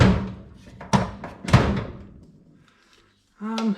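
A workshop drawer sliding and banging shut as a pair of pliers is put away, giving a few sharp thunks and clatters up close, then quiet and a short hum at the end.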